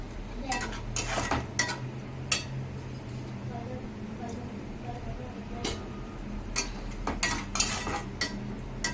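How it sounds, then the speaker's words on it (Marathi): Spices simmer with a little water in a pan for matar Maggi while a utensil stirs and scrapes, giving repeated clinks and knocks over a soft sizzle at close range. "कारण की आपण हे मसाले आता"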